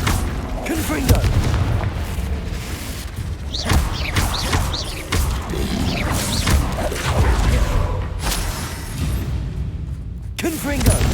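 Blasts from the Confringo fire spell in the Hogwarts Legacy video game erupt again and again through a dense, noisy battle, with voices calling out spells over the booms and crashes.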